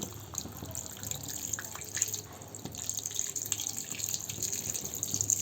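Hot water pouring into a curry pot of mustard paste with cumin for an ilish fish and wild taro dish, a soft continuous splashing trickle, fairly quiet, with no talk over it.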